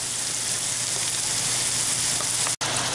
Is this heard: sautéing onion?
yes